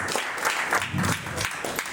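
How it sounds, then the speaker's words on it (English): Brief applause from students welcoming a guest speaker to the stage at a school event, clapping from a crowd with some uneven, louder individual claps and a low murmur underneath. "with a big round of applause"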